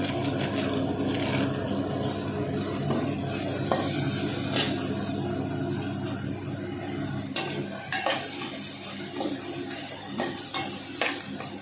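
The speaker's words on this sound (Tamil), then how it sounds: "நல்லா டீப் ஃப்ரை பண்ணி எடுத்துக்கோங்க" Deep frying with curry masala in a pan, a steady sizzle of hot oil under repeated metal stirring and scraping, moderately close, with occasional sharper clinks.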